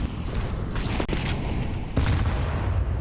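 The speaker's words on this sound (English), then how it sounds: "Dramatic grenade." A grenade blast in a Counter-Strike match on the Ancient map, a sudden muffled boom amid continuous game noise and scattered gunfire, mid-distance and moderately loud.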